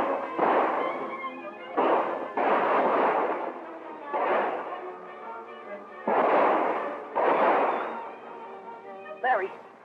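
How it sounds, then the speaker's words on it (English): Gunfire in a shootout rings out as a series of heavy booming shots, about seven reports in uneven succession, each with a long echoing tail. "that's what all that shooting's about"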